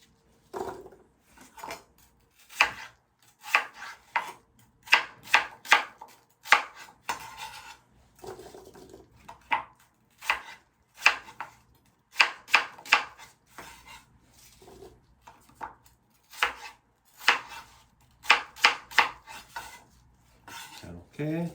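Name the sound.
chopping apple with a knife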